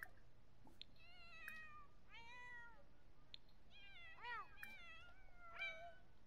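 A pet cat in The Sims 4 video game meows several times in short, separate calls, some rising and some falling, heard close and fairly soft over a quiet background.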